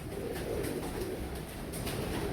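Teddy pigeons of an original high-flying breed coo softly and continuously in a loft, a low rolling murmur with no talk over it.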